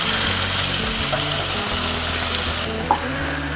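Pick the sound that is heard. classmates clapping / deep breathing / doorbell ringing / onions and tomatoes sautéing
onions and tomatoes sautéing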